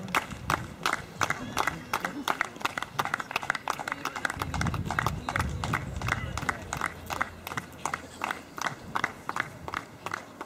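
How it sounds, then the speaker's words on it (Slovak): Rhythmic clapping from an audience at a dog show carries as a steady stream of sharp, evenly spaced claps. Livelier crowd noise swells briefly in the middle, and a voice talks over part of it. "poprosíme o potlesk"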